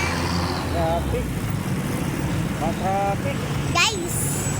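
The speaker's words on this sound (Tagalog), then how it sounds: "Traffic." Road traffic heard from inside a car on the way home from church, a steady low rumble of engines and tyres throughout, with several voices talking over it.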